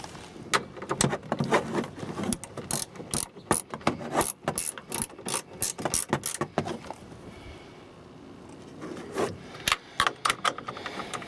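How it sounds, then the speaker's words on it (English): A 10mm hand ratchet tightens nuts on heavy-duty extendable towing mirrors on a Silverado or Sierra, giving close, loud bursts of ratcheting clicks in uneven strokes with short pauses between, and no speech. "So using our 10mm ratchet, we'll tighten these babies down."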